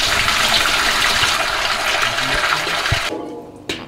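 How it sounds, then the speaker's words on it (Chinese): Water gushes into a casserole pot of pork bones in a strong, steady pour, close and loud, then cuts off abruptly near the end, followed by a single clunk. "锅中加水。"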